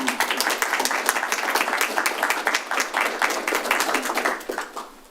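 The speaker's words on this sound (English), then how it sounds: "I applaud you all." Sustained applause from a council meeting audience, dense steady clapping from many hands throughout, fading slightly at the end.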